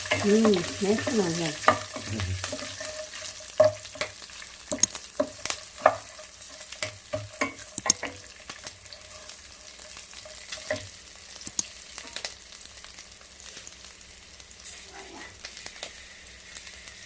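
Cashew nuts frying in a pan for palak rice, a soft steady sizzle with irregular sharp clinks and scrapes of a spoon stirring, louder early and quieter toward the end.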